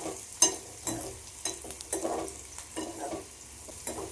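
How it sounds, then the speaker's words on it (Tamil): Dried red chillies frying with garlic in a pan, a close sizzle broken by repeated scraping strokes of a spoon stirring, with no talking. "மிளகாய் வத்தலை போட்டு வதக்குவோம்"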